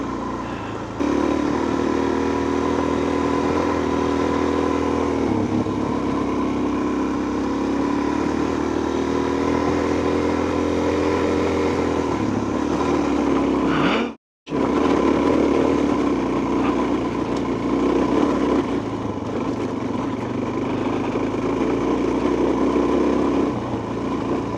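A dirt bike engine running continuously while riding downhill, a close steady drone that shifts in pitch with throttle changes and cuts out abruptly for a split second midway before resuming.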